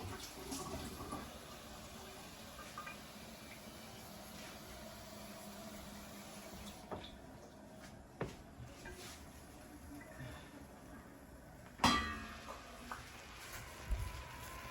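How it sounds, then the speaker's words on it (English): Cold tap water is poured into a cooking pot of peas for Jamaican rice and peas, a steady close splashing rush with a few brief knocks and clinks toward the end. "I'm gonna be pouring some water to sink the peas"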